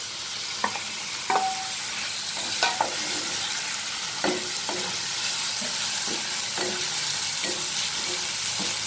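Tomatoes and green chili fry in a pan for Amritsari-style paneer bhurji, a constant loud sizzle with a spoon scraping and tapping the pan at irregular intervals.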